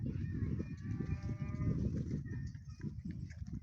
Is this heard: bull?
yes